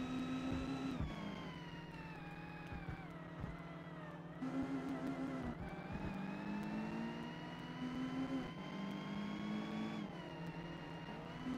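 A racing car's engine drones and revs in the Forza Motorsport game, a steady humming whine that rises and falls in pitch through gear changes, with an odd glitchy tone, faint and continuous.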